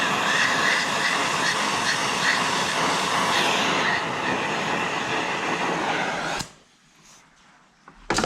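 A torch heats the end of a steel meat-hook gambrel red hot with a loud, steady, close roar. The roar cuts off sharply after about six seconds, leaving near silence and a brief knock at the end.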